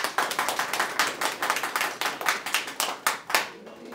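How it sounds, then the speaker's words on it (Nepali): Hall audience clapping hard for an honoured guest at a DXN gathering in Nepal, a dense burst of hand claps with sharp, rhythmic peaks, loud and close, fading out at the end. "उहाँको लागि पनि एक जोरदार ताली प्लिज"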